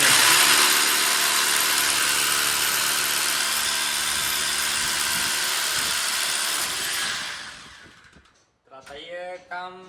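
A drill machine runs continuously at a loud, steady whine for about eight seconds before winding down, followed by a brief burst of talk.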